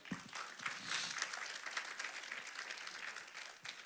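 A church congregation applauds during a sermon, a faint, steady clatter of many hands clapping at once, heard alone and from some distance.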